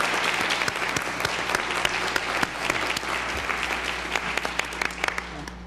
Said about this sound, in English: could we have another round of applause for all of our students?